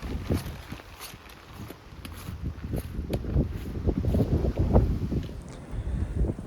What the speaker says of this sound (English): it is so windy and cold